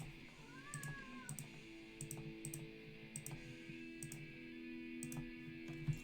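A pet cat named Chapo meows indoors, with a few short, faint-to-moderate calls spaced through a quiet room with a steady background hum.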